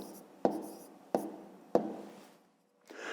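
A pen writes the numbers of a fifth-grade maths answer on paper, giving three short, distinct scratchy strokes close up, followed by a brief silence and no speech.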